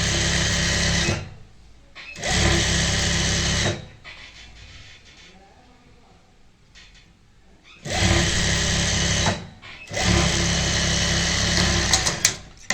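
A sewing machine stitching over the lining of a palazzo runs in two loud, steady bursts of fast mechanical whirring, separated by a quieter pause with faint handling noise, close by.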